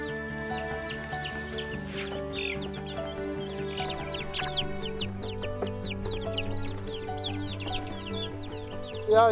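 Several chickens cluck and chatter continuously, close by, with a steady farmyard hum underneath and a brief louder burst at the end.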